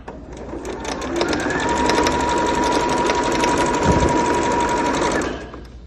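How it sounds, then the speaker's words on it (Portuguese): Close, steady whir of a sewing machine running continuously for several seconds as it stitches the side seam of a fabric bag, rising at the start and tapering off at the end. "Primeiro, eu vou fazer minha costurinha lateral do acabamento."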